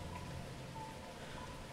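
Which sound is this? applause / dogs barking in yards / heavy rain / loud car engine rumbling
heavy rain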